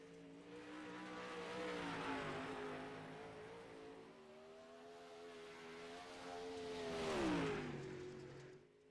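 A 358 modified race car runs a timed lap on a banked dirt track, its engine droning steadily at a distance, then swelling loud as it passes near and fading away.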